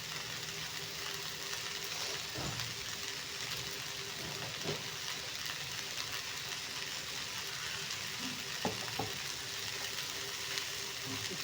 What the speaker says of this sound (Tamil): எண்ணெய் சூடாகிட்டு இருக்கு